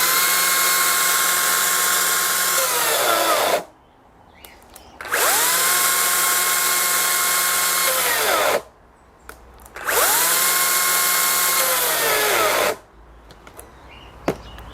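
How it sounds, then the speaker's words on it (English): A Makita 40V cordless top-handle chainsaw revs up three times, each long whine bogging down in pitch as it stalls under load, with short quiet gaps between. "Great little chainsaw. Let's just do a stall test, eh?"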